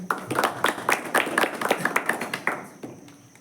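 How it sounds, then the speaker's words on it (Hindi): An audience at a talk about firecrackers gives a short, brisk round of applause, sharp overlapping claps at close range that taper off over about three seconds. "उनके लिए जोरदार तालियों।"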